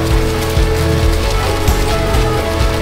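Rain falls continuously in a loud, even wash of noise, with occasional heavier drips and thuds, and no voices.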